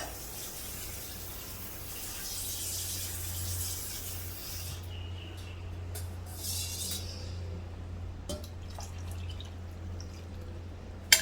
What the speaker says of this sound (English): I'm going to add in about 1 cup of water.